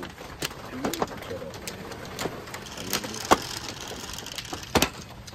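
Pigeons coo softly amid scattered sharp knocks and clatter outdoors, faint and intermittent against a quiet background.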